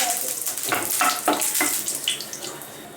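Curry leaves with cinnamon, cloves and cardamom hit hot oil for spicy chilli chicken, bursting into loud crackling sizzle with sharp spits that gradually settle into a steadier frying hiss.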